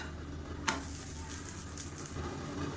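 A thick adai lentil pancake sizzles quietly on a pan just after being flipped. A single sharp clack of utensil on pan is followed by a soft, continuous, close sizzle, with no talking.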